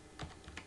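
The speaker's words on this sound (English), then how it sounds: "So I'm just going to type in" A computer keyboard is typed on while entering a PHP file name during setup, giving two quick, close clicks over a low background hiss.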